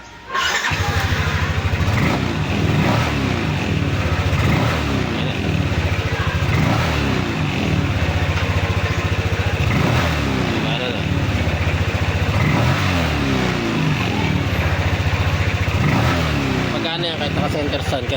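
A Yamaha NMAX scooter with a check-engine error starts up and idles close by, its engine running steadily throughout with slight revving swells, while a person talks over it.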